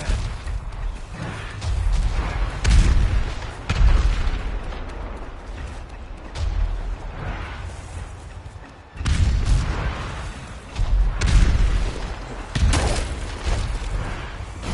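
Enemy fire and explosions in Ghost of Tsushima on Iki Island, loud repeated booms and blasts in bursts over a continuous rumbling battle din.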